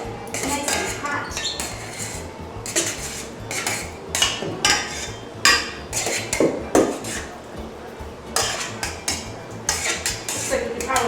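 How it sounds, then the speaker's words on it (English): Hot pasta tossed with kale and pepito pesto in a metal pot or bowl, with repeated clattering utensil scrapes and clinks in an uneven rhythm, fairly close and steady, alongside some background voice. "I'm going to toss gently"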